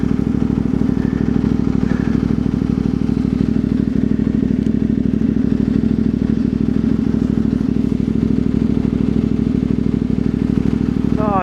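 A CF Moto 450 MT motorcycle rides a steep fire trail in the national park bush, its engine droning steadily and loudly up close throughout, with clattering and thumps from the rough ground.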